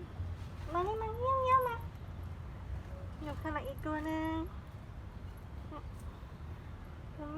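Cat meowing in a series of clear, drawn-out calls at close range, with a voice speaking in between and around them.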